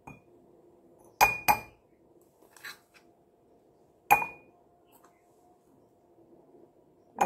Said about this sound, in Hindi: ये रहा मेरा कांच का जार जिसमें मैं अच्छे से ऐसे डाल दूंगी।